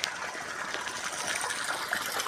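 Water gushes steadily from a pipe fitted to a freshly drilled bore well, a continuous close rushing wash with no break.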